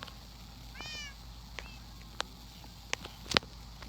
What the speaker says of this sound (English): And she's got quite a lot of cats.